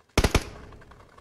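Gunfire in the mobile battle royale game BGMI during a tournament practice match: three sharp, loud shots in quick succession, then a fading echoing tail.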